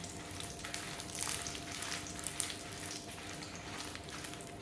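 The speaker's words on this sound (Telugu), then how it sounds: "ఈ మిర్చి అనేది బాగా పొంగే వరకు వేయించుకోవాలి." Dried red chillies frying in a pan for Andhra-style sesame spice powder give a steady, close sizzle with soft crackles and occasional stirring scrapes, continuous throughout with no talking.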